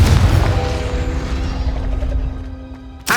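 A Confringo fire-blast spell explodes in Hogwarts Legacy, a heavy booming blast with a rumbling decay lasting a few seconds, then a sudden sharp crack right at the end.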